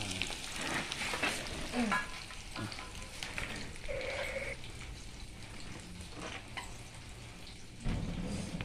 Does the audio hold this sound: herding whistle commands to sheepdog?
no